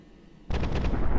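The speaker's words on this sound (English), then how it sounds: "Oh, it's shooting at it." A spaceship fires on a shielded planet in the space game Solar Smash, a sudden loud blast that kicks in about halfway and carries on as a dense, rapid burst of booming shots to the end.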